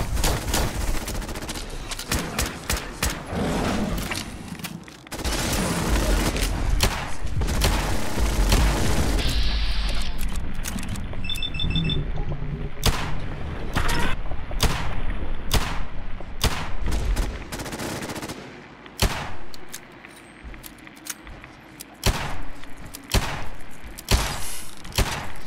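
Repeated gunfire from a weapon in Fallout 4, a dense run of sharp shots and booms in bursts across the scene, loud and close with short gaps between volleys.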